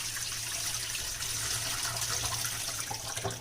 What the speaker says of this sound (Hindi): और गरम पानी से हम इसको अच्छी तरह से साफ करेंगे।